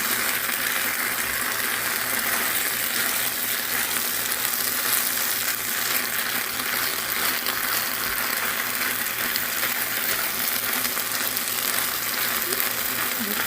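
Broth poured into a hot pan or large pot for Korean seaweed soup sets off a steady, close, dense sizzle with faint stirring scrapes, continuing evenly throughout with no voices.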